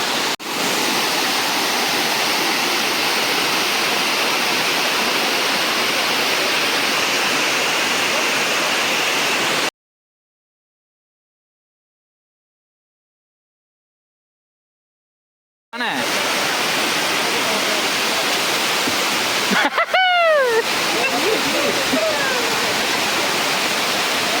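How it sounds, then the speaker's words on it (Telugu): A hidden waterfall in Telangana roars with steady, loud broadband rushing. The sound cuts out briefly, then returns with faint voices and chirpy whistle-like sounds over the flow. "అక్కడ వాటర్ ఫాల్స్ కనబడుతుంది."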